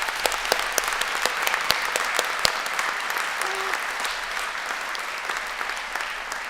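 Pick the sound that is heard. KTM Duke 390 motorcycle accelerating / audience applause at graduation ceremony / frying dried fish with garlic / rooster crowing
audience applause at graduation ceremony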